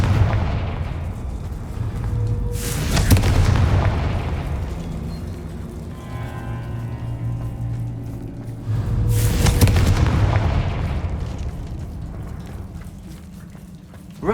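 The Confringo fire spell exploding in the video game Hogwarts Legacy, heard as two heavy booming blasts several seconds apart, each followed by a rumbling decay.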